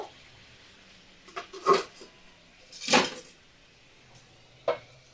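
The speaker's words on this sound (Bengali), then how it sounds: "এবার কিছুক্ষণ সবজিটা সিদ্ধ হতে দিতে হবে তো আমি ঢাকা দিয়ে রাখবো" A lid is set onto a cooking pot of vegetables and water heating on a low flame, giving a few soft metallic clinks and one sharper clatter amid quiet kitchen background.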